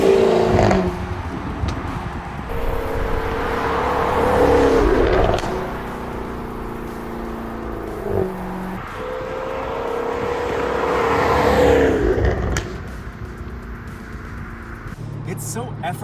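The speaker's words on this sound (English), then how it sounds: "this is still a barely contained animal of an engine that's barking and howling and farting its way" Jaguar F-Type R roadster engine revving and accelerating, a loud barking V8 that rises and falls in two long surges with crackles between, while someone talks over it.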